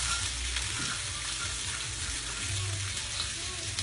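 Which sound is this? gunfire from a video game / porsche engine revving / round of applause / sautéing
sautéing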